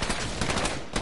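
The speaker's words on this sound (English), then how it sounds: "They're all shooting at me." Dense, continuous gunfire from several players in a multiplayer shooter game, rapid overlapping automatic bursts filling the scene loudly and without a break for about a second.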